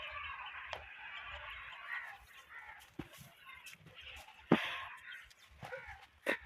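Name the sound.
chickens running around outdoors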